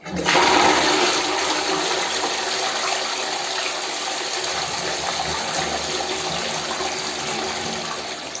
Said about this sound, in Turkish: güzelce duruladıktan sonra siponu çekiyoruz.